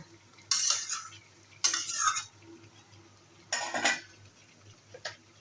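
Egg chicken curry being stir-fried in a pan: four separate bursts of scraping and clattering from a spatula against the pan, with a quiet, soft sizzle between strokes.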